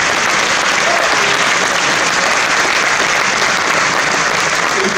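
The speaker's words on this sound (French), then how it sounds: "je vous demande d'applaudir très fort Étienne Lacroix" Steady, dense applause from an audience at the opening of a chess championship in Nîmes, honouring an eight-time French champion; loud, continuous clapping with no letup and no speech.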